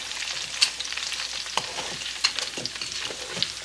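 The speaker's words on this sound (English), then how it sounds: "just gonna kind of make sure that they're all loosened from the tray" Roasted beef bones are scraped loose from a metal roasting tray in short scratchy strokes with a few sharp clinks and a faint sizzle underneath, close and moderately loud.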